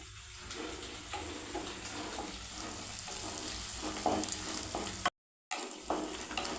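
Ingredients for a dried shrimp and tomato curry frying in oil until browned, a steady close sizzle with faint scraping, a brief dropout near the end.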